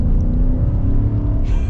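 A 2024 Nissan Titan pickup truck accelerates, a loud low engine drone heard close from inside the cab that holds steady through the short pull with no talking.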